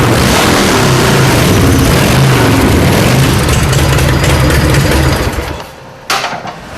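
Custom-built motorcycle engine with a weak-sparking magneto, running loud and close with a throbbing idle and rising revs, then dropping off abruptly near the end before a short final blip.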